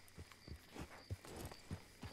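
Faint, regular clip-clop of horse hooves in the video game Red Dead Redemption 2 comes as an even walking rhythm of soft knocks, about three per second.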